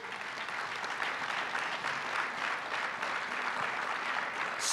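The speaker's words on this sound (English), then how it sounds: "And you can give them a round of applause." Steady, dense applause from an audience at an awards ceremony as honorees come up on stage, sustained and even throughout with no pauses.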